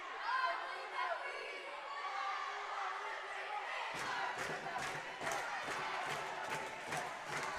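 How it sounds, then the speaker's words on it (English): Crowd at a high school basketball game between ICA and Heritage Hall: a broad, roaring crowd noise in a gym, then rhythmic stomping or clapping under a commentator's talk. "a good crowd here, a good crowd supporting both teams"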